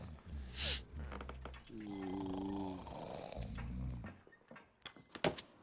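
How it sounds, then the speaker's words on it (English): A sailor snores loudly below deck in The Pale Beyond video game, with deep rhythmic rumbling breaths, close and prominent, alongside soft game ambience and scattered clicks. "There's very loud snoring there."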